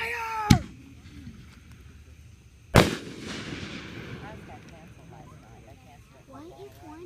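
Fireworks go off in two sharp, loud bangs a couple of seconds apart, each followed by crackling and a fading tail, with voices chattering between and after.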